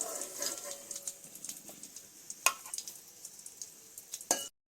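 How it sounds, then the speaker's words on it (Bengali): Ground ginger, garlic and chopped onion fry in hot oil with a soft sizzle, punctuated by sharp clacks of a spoon stirring against the pan, while someone talks over it. "গরম তেলের মধ্যে বেটে রাখা আদা রসুন পেঁয়াজ কুচিগুলো দিয়ে"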